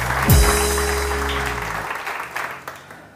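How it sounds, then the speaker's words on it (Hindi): Studio audience on a morning TV show applauds a guest, a broad wash of clapping that begins with a loud burst and gradually fades, with a musical sting at the start. "बहुत सारी तालियां कनान के लिए"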